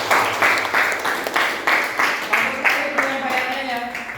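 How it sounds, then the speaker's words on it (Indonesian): A classroom group claps for a presenting team during a teacher-training lesson, close rhythmic applause in evenly spaced beats that lasts a few seconds. "Tepuk tangan untuk kelompok 2."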